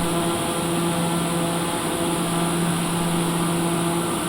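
Steady, loud turbine whine and propeller drone from a TBM 930 turboprop climbing after liftoff, a constant cabin tone with no break.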